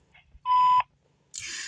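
A single short electronic voicemail beep sounds clearly and alone, followed after a pause by a burst of hissy line noise.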